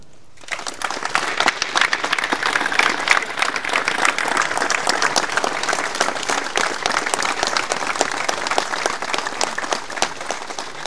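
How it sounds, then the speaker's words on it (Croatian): A crowd applauds steadily and loudly for absent Croatian war veterans at a veterans' press gathering, the dense clapping sustained for about ten seconds without talk. "da ih pozdravimo jednim pljeskom"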